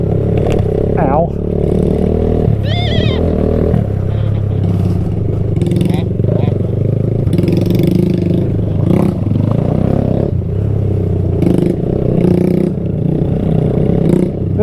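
A mini bike engine revs and buzzes along a tight bicycle trail, rising and falling under frequent nearby talking and laughter, with some clattering from the ride.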